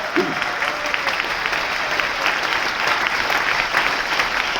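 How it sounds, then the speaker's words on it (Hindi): Loud, dense applause from an audience at a brand ambassador event aboard a Cordelia cruise, steady clapping filling the whole stretch with a brief voice-like tone near the start. "जोरदार तालियां होना चाहिए। जोरदार तालियां।"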